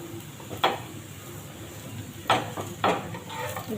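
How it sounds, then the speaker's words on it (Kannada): Tomato paratha cooking in oil on a pan, a soft steady sizzle broken by a few sharp clinks of a spatula against the pan. "ಈ ಥರ ಹೊಳಿಸಿ ಹಾಕಿ ಸ್ವಲ್ಪ ಮತ್ತೆ ಮೇಲೆ ಎಣ್ಣೆ ಹಾಕಿ ಈ ಥರ ಬೇಯಿಸ್ಕೋಬೇಕ್ರಿ"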